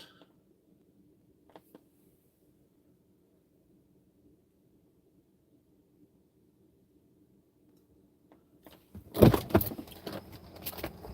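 A truck engine is started after a long quiet stretch, with keys jangling briefly. It catches with a loud cranking burst and then settles into a steady, rumbling idle.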